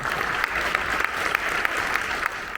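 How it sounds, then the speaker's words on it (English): Steady applause from an audience at an Iceland innovation event, many hands clapping continuously at moderate volume with no voices over it. "So another round of applause"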